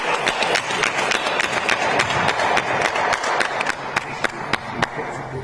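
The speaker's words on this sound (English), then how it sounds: "I think they deserve a big round of applause." An outdoor crowd at a police brutality and workers' rights rally applauds in a sustained wash of clapping, with sharper individual claps standing out near the end.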